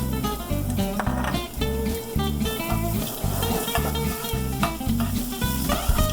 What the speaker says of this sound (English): This is chopped garlic. I love garlic, so I just go ahead and put the garlic in there.